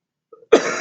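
A single sharp cough bursts out close to the microphone, preceded by a faint throat rasp, then trails into a short breathy rush.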